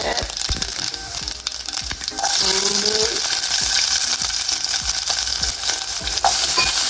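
Fennel, mustard and fenugreek seeds fry in hot oil left from frying plantain, a dense crackling sizzle that swells louder after a couple of seconds, with scattered pops and utensil taps and a voice briefly speaking.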